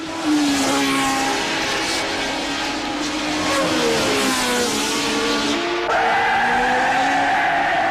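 A red and white Formula One car, number 11, races around the circuit at the British Grand Prix, its high engine whine rising and falling through gear changes, loud and close.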